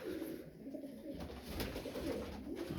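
Fantail pigeons coo in a loft, soft repeated low throaty calls rolling over a faint background hum, close by and fairly quiet throughout.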